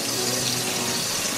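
Cold water gushes steadily from a kitchen tap into a sink, a loud, continuous rushing with no pauses or voices.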